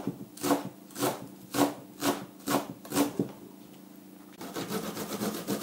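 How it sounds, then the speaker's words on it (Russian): Four garlic cloves are rubbed on a fine kitchen grater in about six steady rasping strokes close by, followed by a softer continuous scraping; no one speaks. "И затем измельчим на мелкой терке"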